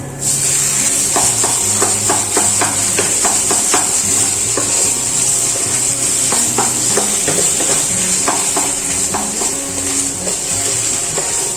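Vegetables fry in a pan with homemade chhana (paneer), giving a steady loud sizzle and hiss under repeated clinking taps and scrapes of a spatula stirring against the pan.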